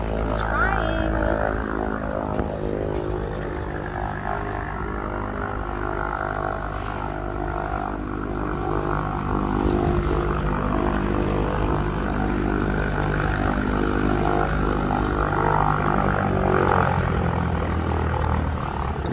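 A remote control model airplane's electric motor and propeller whine steadily and loudly close by as it takes off, holding a constant drone throughout with slight swells.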